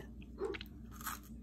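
Someone bites into a crunchy homemade cookie, giving a couple of quiet, close crunches and brief chewing sounds over a low background hum.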